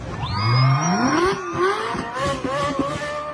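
A Ferrari engine revs at a gender reveal party, a loud rising whine that climbs in pitch, then holds and wavers through rapid throttle blips, with crowd noise underneath.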